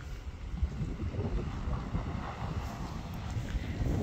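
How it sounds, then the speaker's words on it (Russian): Strong wind blows across an outdoor rural homestead garden in early spring, a low, rumbling, continuous roar buffeting the microphone with gusty surges and no voices. "Слышите, какой ветер?"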